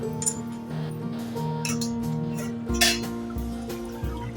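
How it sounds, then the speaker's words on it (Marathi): A metal lid comes off a pot of simmering black-eyed peas, giving a few clinks and knocks against the rim over a steady hum of cooking, with no speech. "आता आपण ना झाकण काढून बघूया"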